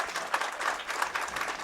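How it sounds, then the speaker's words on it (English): Steady applause from a crowd at a high school football game, Schuylkill Haven at Mahanoy Area, as an injured player gets back to his feet; dense even clapping held throughout at moderate distance. "Nice round of applause for McGroarty as he is up on his feet"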